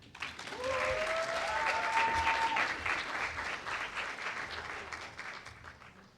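An audience applauds to welcome a speaker at the opening plenary of the 2025 HBCU Making & Innovation Showcase, with steady, dense clapping that swells and then slowly fades over about six seconds, and a faint voice briefly rising above it.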